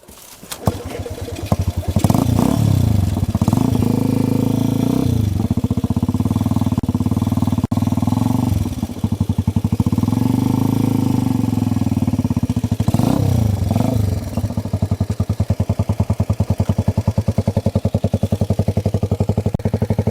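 A Honda RC110 replica Skyteam Ace 125cc motorcycle engine starts and revs, with a loud, close, steady single-cylinder chatter rising and falling through repeated blips of the throttle and no pause.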